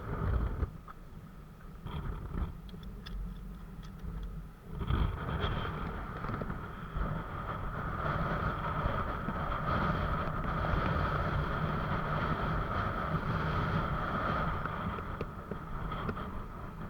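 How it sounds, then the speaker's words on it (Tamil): Strong sea wind at the Pamban railway bridge roars steadily across the microphone, buffeting and building over time, with no talking. "காற்றும் நல்லா பலமாக அடிக்குது"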